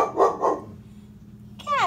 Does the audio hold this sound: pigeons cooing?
no